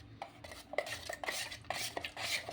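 Printing colour being mixed with reducer at a skin printing training centre, a quiet series of rhythmic scraping and tapping strokes against a container, with no voices.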